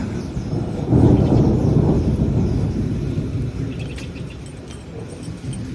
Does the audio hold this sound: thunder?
yes